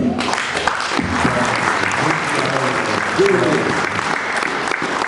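A church congregation claps and cheers together, a loud, steady wash of applause that holds for several seconds with voices mixed through it.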